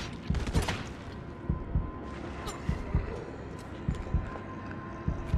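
Gunshots from the PC video game Resident Evil 3 on hardcore difficulty, with a series of single thudding reports spaced at roughly regular intervals over a low background rumble.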